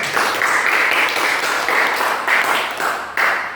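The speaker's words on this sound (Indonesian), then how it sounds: "terima kasih, tepuk tangan untuk kita semua." Classroom applause from students at the close of a lesson, a sustained patter of clapping with several swells and pulses, moderately loud and fairly close, with no talk over it.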